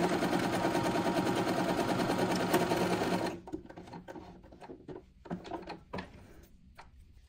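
Sewing machine stitching fabric for a small pocketed bookmark, a steady dense whir for about three seconds, then stopping, followed by quieter scattered handling clicks and rustles nearby.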